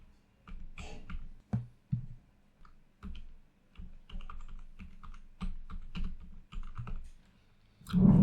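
Quick, uneven bursts of keystrokes on a computer keyboard as a search for Mickey Mouse is typed on Amazon, the clicks close and clear, with a louder clatter at the end.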